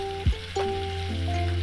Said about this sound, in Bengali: এটাকে এখন আমরা ভালো করে ভেজে নেব